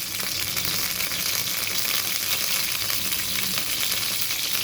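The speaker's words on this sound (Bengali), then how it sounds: "তেলটা গরম হওয়ার সাথে সাথে আমি কেটে ধুয়ে রাখা বেগুনগুলো দিয়ে দিলাম।" Cut brinjal (eggplant) pieces fry in hot oil in a kadai, making a steady, dense sizzle that holds at an even loudness throughout with no talking.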